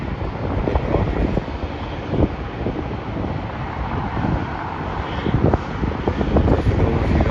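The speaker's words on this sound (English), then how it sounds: "the flight that just took off is going to Auckland, and that is Qantas Boeing 737" A Qantas Boeing 737 takes off from Melbourne airport, a broad continuous jet engine roar heard from a distance, mixed with gusty wind buffeting the microphone.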